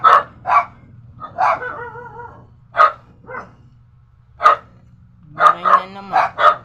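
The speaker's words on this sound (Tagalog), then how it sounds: "Ingay na naman mga aso." Four dogs bark repeatedly at close range in uneven bursts, one occasionally letting out a higher yelp, with brief pauses between barks.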